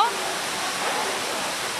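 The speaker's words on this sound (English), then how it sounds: "Sounds like there's water falling." Water falls somewhere inside a cave in Tonglu, China, making a steady, dense rushing hiss that holds evenly throughout, with a brief voice sound at the very start.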